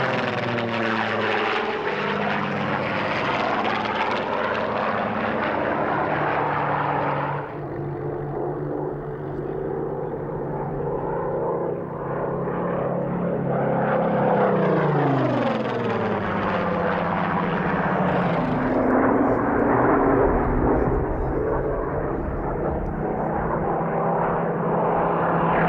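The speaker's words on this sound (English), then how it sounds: "TFC's first Mark 14 is a low-back version and is painted in the silver colours of 2 Squadron of the post-war RAF" A silver post-war RAF Supermarine Spitfire Mark 14, low-back version, flies at a Duxford airshow, its piston engine roaring loud and continuous as it passes, rising and falling in pitch with clear Doppler sweeps.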